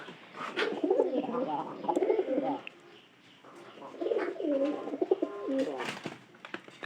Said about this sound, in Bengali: আমাদের এই যে নতুন কবুতর পায়রা কবুতর, আর এটার মোটামুটি ডাক আল্লাহর মতো অনেক ভালো।